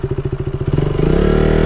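A motorcycle engine running just after repair, close and loud, with evenly spaced exhaust thumps that speed up into a faster, smoother steady beat as it revs.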